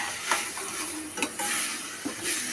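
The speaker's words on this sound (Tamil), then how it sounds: "நல்லா வதக்கிக்கணும்." Chopped tomatoes with salt sizzle in a pan as they are stirred, a soft continuous fry with a few scraping stir strokes and light clinks, for a tomato rice dish.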